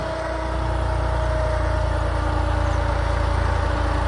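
A New Holland 3630 tractor engine runs steadily at idle, a loud, close diesel rumble with a constant low throb and faint tonal hum throughout, no talking.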